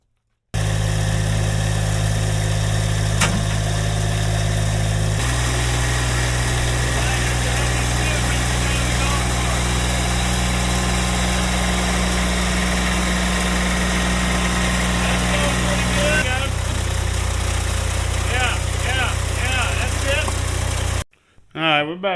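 A tractor engine idles steadily and loud in the foreground, a constant low drone that shifts pitch slightly twice and then cuts off at the end.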